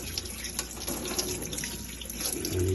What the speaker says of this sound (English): You run it underwater. You want to get as much of the broken shell out as you can.